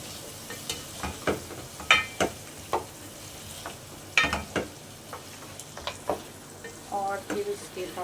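About a kilo of boiled meat frying in a pan: a continuous sizzle runs under repeated clattering stirs and scrapes of a spoon against the pan, close and fairly loud, with no talk.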